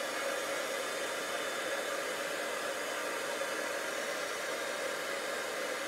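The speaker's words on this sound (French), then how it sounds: "Le pistolet chauffant est vraiment pratique, mais pour faire des lives, c'est bruyant." A heat gun blows hot air across watercolour paper, a loud, steady, unbroken rushing hiss that holds at the same level for the whole stretch with no voices.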